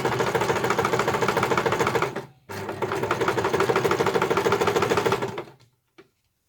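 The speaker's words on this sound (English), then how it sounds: "And just sew around the corner and ready for the next straight stretch." A sewing machine stitches steadily along the edge of a piped cushion cover, a close, even mechanical rattle that stops briefly, resumes, then runs down to silence.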